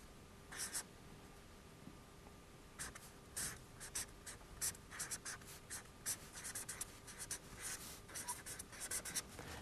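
Pen writing out a maths denominator during an integration tutorial, a run of quiet scratchy strokes close up, with a pause and then quicker, denser strokes.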